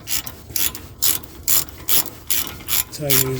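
A hand ratchet tightens the brake caliper bolts on a Chevy Equinox, producing loud, close bursts of rapid clicking in a regular back-and-forth rhythm, ending with a short metallic squeak.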